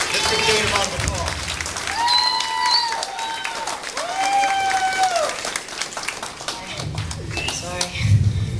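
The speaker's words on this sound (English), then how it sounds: "Let's give Jade a round of applause." An audience at a community event announcing a bullying ordinance welcomes a speaker to the stage with steady applause and some cheering that runs through the whole stretch, mixed with music and talk.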